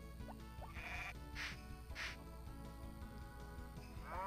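Sheep in the farming video game Harvest Moon: Back to Nature bleat several times in short, quiet, wavering calls over a steady background game tune.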